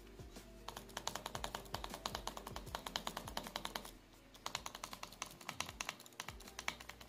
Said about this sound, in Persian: یه چند تا ویدیوی باترفلای کلیک رو بهتون نشون میدم.